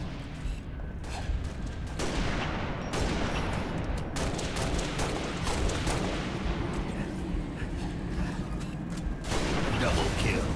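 Sniper rifle fire in a video game sounds as repeated sharp shots and booms over a dense bed of game effects, with a player talking throughout.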